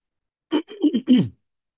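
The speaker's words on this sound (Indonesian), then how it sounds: "saya lagi agak batuk" A short burst of throat clearing and coughing, three rough bursts close together, close to the mic and fairly loud, with no talking.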